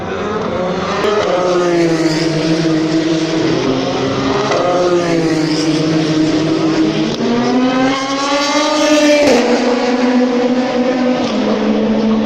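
Toyota race cars roar past at the Le Mans 24 Hours test day, loud engines rising and falling through gear changes as they drive together close to the microphone, with no talk over them.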